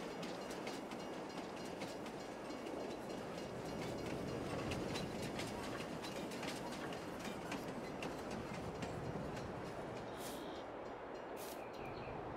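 A train ride in Farming Simulator 22, with a dense, steady rolling rumble and rhythmic clickety-clack of wheels on track, close and continuous, with a couple of brief high squeaks late on.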